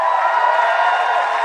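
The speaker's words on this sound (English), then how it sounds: "Give her a big round of applause." Crowd at a London protest cheering and clapping in a steady, dense wash of applause, fairly distant and continuous throughout.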